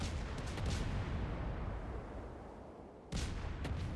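A naval gun salvo in World of Warships booms and rumbles with a long, roaring decay, followed by a second sharp blast near the end, loud and close.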